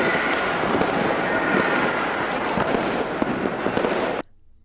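A fireworks soundtrack plays back in a DaVinci Resolve edit: dense, continuous crackling and popping bursts at full loudness, then cut off abruptly just before the end, leaving near silence.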